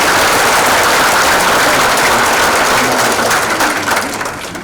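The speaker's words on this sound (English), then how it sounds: "another round of applause for the members that are sitting next to us" Loud, dense applause fills a high school awards ceremony hall as Hall of Fame members are honoured, a full sustained roar of clapping that fades slightly toward the end.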